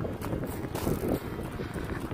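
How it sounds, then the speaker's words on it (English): Wind gusting on a mountain hike at Dripping Springs near Las Cruces, New Mexico, a steady rough rumble buffeting the microphone with a stronger gust in the middle. "Oh, windy."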